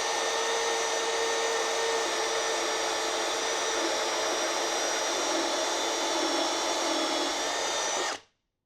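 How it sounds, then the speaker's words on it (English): A step drill bit grinds steadily through a Challenger side cover, widening a pilot hole to 7/8 inch with a loud, continuous whining drone and bright tonal overtones that hold for about eight seconds before cutting off abruptly. "I'm just going to take the step drill bit that goes up to 7/8 and just drill all the way through"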